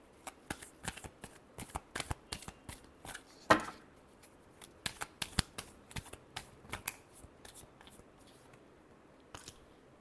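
Tarot cards being shuffled by hand, a series of crisp, close riffling slaps and flicks in an uneven rhythm, quiet overall with one louder snap partway through.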